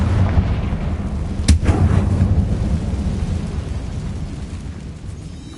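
A Confringo fire spell blast in Hogwarts Legacy, one sharp loud crack followed by a rumbling boom that fades slowly over a constant low roar of background game ambience.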